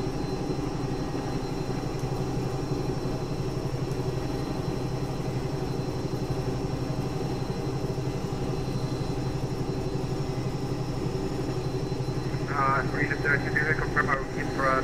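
Bell 222 air ambulance helicopter simulated in X-Plane 11, a steady, unchanging drone of turbine and rotor hum, fairly loud and continuous, with a brief burst of radio-like chatter near the end.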